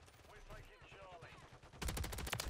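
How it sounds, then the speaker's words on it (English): Call of Duty Modern Warfare 3 gunfire in a multiplayer match, quiet distant shots under a voice, then a louder rapid burst of automatic fire near the end. "See, they're shooting at each other now."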